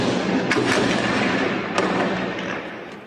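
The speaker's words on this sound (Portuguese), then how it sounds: "começou o tiroteio em vários pontos da cidade" Scattered gunfire across a city at night during an armed raid in Araraquara, a few sharp distant cracks and thumps rising over a dense, continuous roar of background noise.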